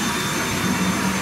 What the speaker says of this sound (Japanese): たまには掃除機かけないと